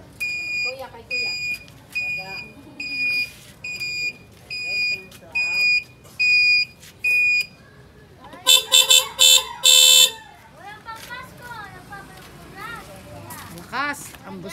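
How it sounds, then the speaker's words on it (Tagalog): Horn on a repaired e-bike beeping in a series of short, loud electronic honks in a steady rhythm, then a longer burst of blasts, with people talking nearby. "Lakas, ang busina."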